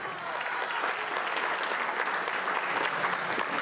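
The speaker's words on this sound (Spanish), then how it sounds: "Un aplauso fuerte." Wedding guests applaud in a steady, moderately faint burst of many hands clapping, lasting a few seconds with no talk over it.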